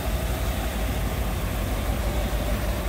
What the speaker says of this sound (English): You can hear how smooth that's running.